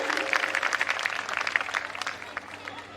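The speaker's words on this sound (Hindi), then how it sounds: "एक बार फिर से जोरदार शोरदार तालियां हो जाए दोस्तों।" An audience claps at a devotional bhajan evening for Khatu Shyam, brisk overlapping applause that is strongest early and gradually thins out, with a voice faintly present beneath it.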